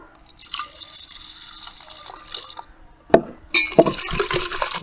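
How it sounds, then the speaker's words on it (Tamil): Water pours over soapnuts in a vessel with a gurgling, dripping rush, a pause, then a couple of sharp clunks and another burst of pouring. "இந்த பூந்தி கொட்டையை இந்த பாத்திரத்தில் போட்டுக்கலாம் தண்ணி கொஞ்சம் ஊற்றிக்கலாம்"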